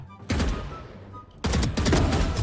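Two sharp bursts of rapid gunfire ring out in a Valorant match, separated by a short quieter gap, loud and close.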